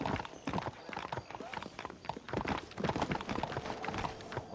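Horse hooves clip-clop in a quick, continuous rhythm as a rider moves across ground in the Red Dead Redemption video game, close and clear, with faint talk underneath.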